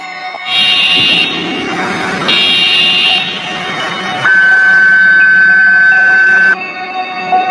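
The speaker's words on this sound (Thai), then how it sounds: "สิ่งนั้น กำลังส่งเสียงคล้ายเสียงประกาศ หรือสัญญาณเตือนภัยเป็นระยะ" A shrill electronic siren-like alarm tone sounds in repeated bursts in a forest, shifting pitch between segments over a low rumbling background, loud and close.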